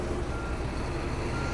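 Truck reversing with repeated electronic backup beeps over a steady engine rumble, close and loud, with no talking.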